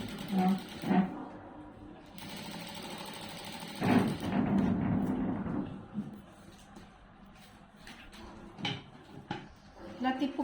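A sewing machine on a normal presser foot stitches piping onto slippery cloth in short runs broken by pauses and handling clatter, close by, with someone talking over parts of it.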